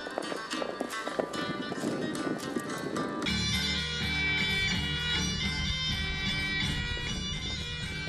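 Horse hooves clip-clop at a recreated Cossack heritage site in Ukraine, where riders train in mounted archery, with an occasional whinny. The sound is steady and fairly close, and music plays underneath throughout.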